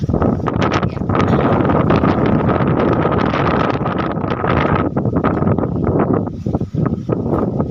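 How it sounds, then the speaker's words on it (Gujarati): Strong wind buffets the microphone in loud, continuous roaring gusts, with rustling underneath. "પવન પણ જોરદાર હોય વાડી ઘટે નહીં એવો."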